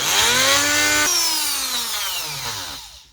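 A power drill bores into the hard plastic of a Zurg action figure, a loud whining motor whose pitch shifts and sags under load for a few seconds before spinning down, close and with no voices.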